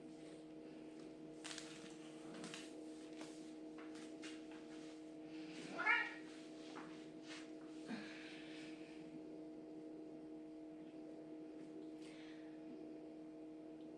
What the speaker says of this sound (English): We're gonna have two cats joining us for yoga today, apparently.